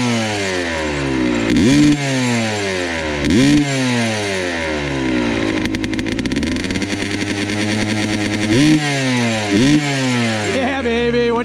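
A Honda CR dirt bike engine revs hard and close, snapping up repeatedly in sharp bursts between falling buzzy pitch sweeps, loud throughout.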